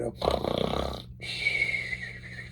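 A human voice imitates a tadpole snoring, giving loud, rough, snorting breaths that are close and raspy, broken by a short pause before a long, hoarse exhale.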